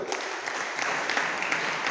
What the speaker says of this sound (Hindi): उनके लिए एक जोरदार तालियां हो जाए